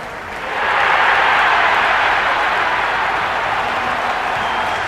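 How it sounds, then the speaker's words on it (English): Stadium crowd in a Cricket 26 India vs Pakistan T20 match on PlayStation 5 swells into a loud, sustained roar that holds steady with no break. "It's the most enthusiastic crowd you could ever see right now. There's a buzz, a real buzz coming from the stands."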